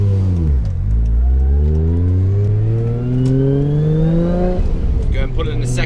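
A Toyota Supra with an over-boost problem accelerates hard, its engine revving steadily upward, then briefly drops at a gear change before pulling again, loud and close from inside the car.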